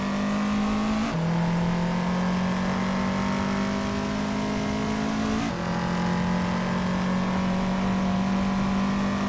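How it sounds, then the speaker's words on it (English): A 1971 Porsche 917 LH prototype racing engine drones at a steady high pitch, holding constant revs with two brief shifts in tone, loud and continuous with no voices. "racing a Porsche 917 LH from 1971"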